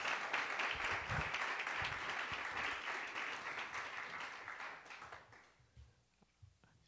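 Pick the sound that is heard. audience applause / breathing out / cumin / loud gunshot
audience applause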